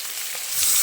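Young jackfruit sizzles as it is stir-fried in hot oil with whole tempering spices for a spicy jackfruit and potato curry: a steady, close frying hiss that swells slightly toward the end.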